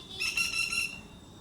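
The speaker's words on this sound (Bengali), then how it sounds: "পাখির আওয়াজটা শুনলেন" A single bird on a rooftop gives a harsh, squawking call lasting under a second, fairly close, over quiet background hum.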